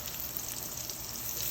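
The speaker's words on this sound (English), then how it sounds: "let me get all this going right now to get our eggplant frying" Eggplant fries in a pan for a Korean eggplant and pork belly dish, giving a steady, close, hissing sizzle that holds evenly throughout with no talking.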